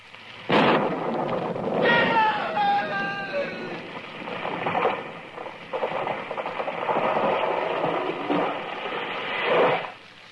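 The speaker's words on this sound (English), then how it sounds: "It was lightning. It struck the tree." Radio-drama lightning strike on a tree: a sudden sharp crack, then a long rolling, rumbling roar that swells and fades over about ten seconds, loud and close, with no voices.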